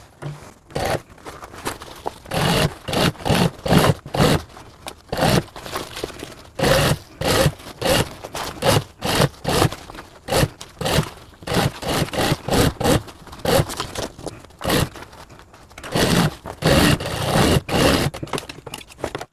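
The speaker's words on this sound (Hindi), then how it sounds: "उसके बाद हम इन दोनों सेंटर के निशान को मिलाकर हम पूरा सिलाई कर लेंगे।" A sewing machine stitches backpack fabric panels in loud, rapid mechanical bursts, stopping and restarting many times with short pauses between runs, close by.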